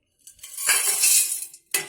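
Dry vermicelli-style noodles are tipped from a bowl into a metal cooking pot of water, giving a close rattling, scraping clatter with a brief clink at the end.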